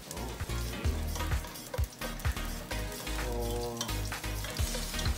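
Garlic sautéing in a pan for Bicol Express crackles and sizzles up close, broken by repeated scraping stirs and clanks of a utensil against the pan.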